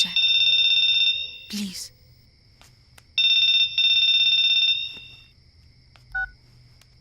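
A telephone rings with two long electronic bursts of warbling tone separated by a pause, loud and close, with a brief spoken word between them and a soft click near the end.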